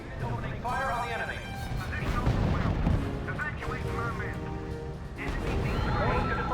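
Artillery and gunfire in the WWII strategy game R.U.S.E.: rolling booms and crackling shots continue throughout, with voices speaking over the battle.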